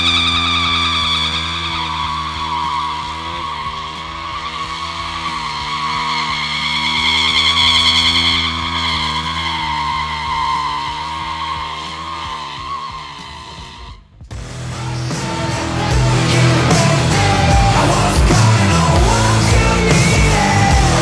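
A Rokon motorcycle doing a donut gives a sustained, loud droning engine whine, then abruptly breaks into a rough, noisy tire skid that continues to the end.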